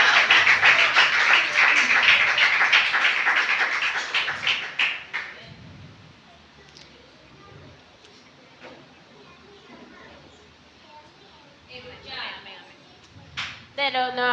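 A church congregation claps loudly together as an offering to the Lord for about five seconds, then the clapping dies away to quiet room noise with scattered voices and a few faint taps.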